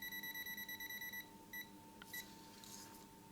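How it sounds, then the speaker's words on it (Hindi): A digital multimeter's buzzer beeps in quick rapid pulses, a fast train of short tones followed by a couple of isolated beeps, fairly faint and with no talking. "इसकी जो बज़र की फ्रीक्वेंसी है वो भी ज़्यादा हो जाएगी।"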